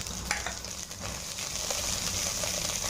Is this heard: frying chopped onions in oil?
yes